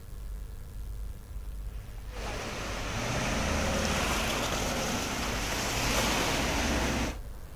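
Floodwater from the swollen Indravati river pours across a national highway near Bodli, a loud continuous rushing roar that swells in after two seconds, holds steady with surging turbulence, then cuts off abruptly near the end.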